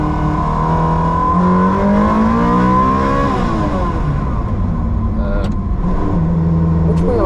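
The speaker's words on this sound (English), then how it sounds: "enjoy the lap. Right, welcome on board of Jimmer's 360" Ferrari 360 V8 engine on a track lap, loud and close from the cabin, revving with rising and falling pitch through gear changes, with faint voice over it.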